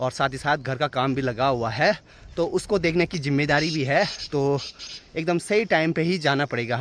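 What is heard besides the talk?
No everyday noises stand out.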